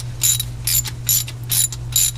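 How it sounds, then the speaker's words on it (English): A ratchet backs out a 13 mm bolt holding a Procharger supercharger pulley on a RAM 1500, giving four short bursts of loud, close, rapid clicking separated by brief pauses, over a steady low hum. "we're going to go ahead and remove the 13 mil bolt that's holding this on"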